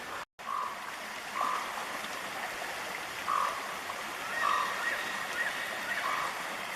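A river flows steadily nearby in Sitka, Alaska, a constant rushing wash with faint, intermittent bird calls scattered over it and a brief dropout near the start.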